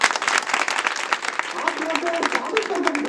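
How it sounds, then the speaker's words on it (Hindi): Audience applause at a village branch inauguration of a women's upliftment organization, a steady, dense wash of many hands clapping that fills the whole span without letup, with a few voices faintly audible beneath it. "जोरदार ताली बजाएं।"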